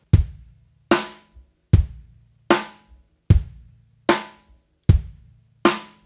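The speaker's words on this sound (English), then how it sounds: "We're going to put the snare drum, or your clapping, on beats 2 and beats 4." An acoustic drum kit plays a steady rock groove, bass drum thumps alternating with crisp, bright snare backbeats on 2 and 4, eight even hits in a loud, close, unaccompanied pattern.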